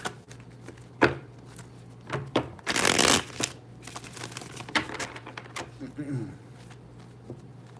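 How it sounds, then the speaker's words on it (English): Tarot cards being shuffled up close for an astrology reading, with sharp riffling bursts and one longer, dense flurry in the middle against a low steady hum. "2 more shuffles."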